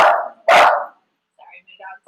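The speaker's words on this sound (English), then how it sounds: "my dog's outside the door." A dog barks twice just outside a door, two loud close barks in quick succession, followed by fainter yips and whines.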